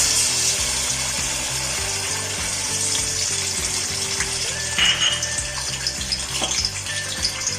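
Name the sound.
ginger garlic paste frying in hot oil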